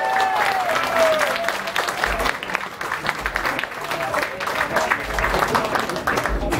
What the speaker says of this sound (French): ça mérite un tonnerre d'applaudissements